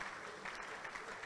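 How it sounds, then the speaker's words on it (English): Applause from an audience at a new members induction ceremony, a short, steady burst of clapping at a fairly low level. "Please give them all a round of applause."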